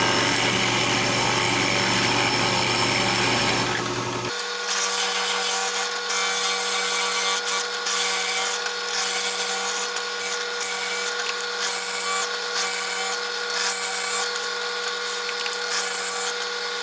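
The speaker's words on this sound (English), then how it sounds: "once I start drilling, I'm going to set my depth" A drill press bores into a wooden musky lure block, starting with a brief whir and then settling into a loud, steady high-pitched drilling whine that holds for over ten seconds, close and alone.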